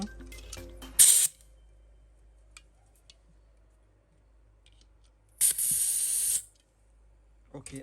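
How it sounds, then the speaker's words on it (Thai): Airsoft gas can hissing while refilling a Hi-Capa pistol, two short bursts of spray about a second apart, close and sharp, with soft handling ticks between them. "เดี๋ยวเราเปิดกระป๋องใหม่เลยดีกว่า"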